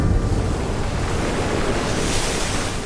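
Stormy sea waves surge steadily with a broad, rushing roar while gusting wind howls over them, loud and continuous with no voices.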